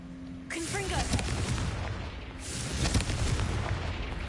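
Two heavy fiery blasts from the Confringo spell in Hogwarts Legacy, each a sudden loud boom followed by a rumbling crackle, the second burst arriving about two seconds after the first.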